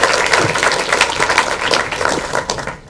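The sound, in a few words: audience applause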